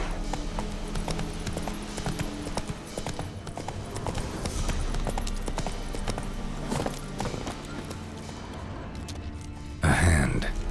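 Horse hooves clip-clopping in The Witcher 3: Wild Hunt, a steady trotting rhythm under game music and ambience, with a brief louder burst near the end.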